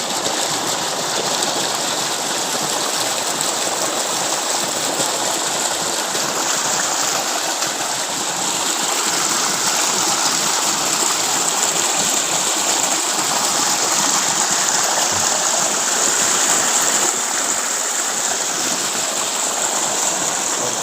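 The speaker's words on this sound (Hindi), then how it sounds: "और देखिए गजब का ये तूफान पानी आ रहा है।" Strong water rushing past in a continuous loud roar, dense and unbroken throughout with no talking heard.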